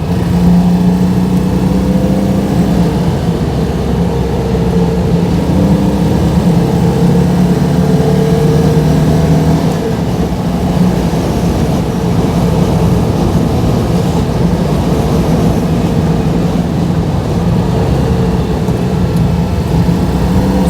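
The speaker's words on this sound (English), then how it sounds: "So good to be back behind the wheel of this little car." A small car being driven on a muddy country road, its engine droning steadily and loud from inside the cabin with mild shifts in revs, unbroken and without talking.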